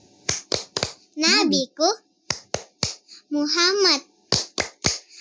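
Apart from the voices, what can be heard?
rhythmic hand clapping in the Tepuk Nabi clapping chant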